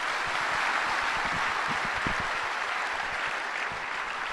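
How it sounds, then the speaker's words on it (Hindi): Sustained applause from a seated audience at a stage event honoring a civil engineer couple, dense and steady clapping filling the whole stretch with no voices over it. "तो एक बार दोबारा से तालियां लगा के दिखाइए इनके लिए।"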